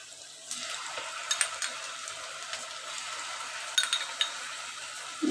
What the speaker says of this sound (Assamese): এতিয়া এনেদৰে মিলাই দিম।